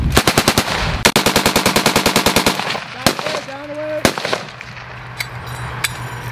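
Live-fire military training with the 4th Infantry Division and the Bundeswehr in the Oberlausitz area, a loud close burst of rapid automatic gunfire followed by several single heavy shots and distant reports, with a brief mechanical whine between them.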